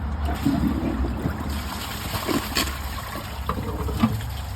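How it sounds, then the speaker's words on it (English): Water rushes and trickles steadily as a Glacier Bay high-efficiency dual flush toilet is flushed again, a continuous close gurgling swirl with low rumble and no talking. "Let's see if it can take it on another flush."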